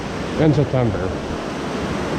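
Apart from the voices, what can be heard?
waterfall at a dam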